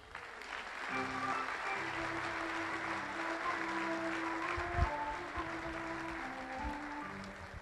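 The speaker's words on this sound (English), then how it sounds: "A round of applause for Robbie Sipe" Applause for Robbie Sipe, a math teacher, at a Joe Panik Day ceremony at John Jay High School in East Fishkill, a steady hall-filling clapping from an audience that runs the whole stretch at moderate loudness, with low tonal hum beneath.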